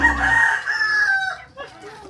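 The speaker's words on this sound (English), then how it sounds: "Chickens." Chickens crowing and clucking at close range on a province pig farm, a loud crow-like call followed by a few scattered clucks.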